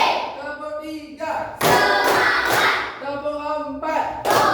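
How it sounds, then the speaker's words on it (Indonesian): A group in a Hindu religion class claps hands in loud bursts that alternate with a teacher's counting voice, the rounds of clapping returning every second or two. "mari kita tepuk dulu"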